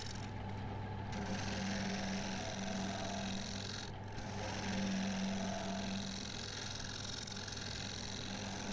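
Steady, loud grinding scrape of a carbide tool hollowing a wooden bowl on a lathe, a continuous cut with a low motor hum beneath and small shifts in tone, no talking.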